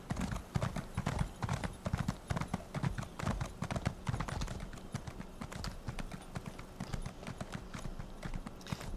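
Hooves clip-clop steadily as a horse gallops in Elder Scrolls Online, a continuous rapid rhythmic beat of close hoofbeats throughout.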